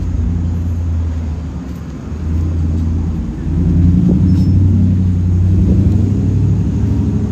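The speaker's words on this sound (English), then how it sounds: "Traffic is pretty congested heading east." Congested eastbound city street traffic in Kensington Market, Toronto, a steady loud rumble of idling and slowly moving engines that swells midway, with no voices over it.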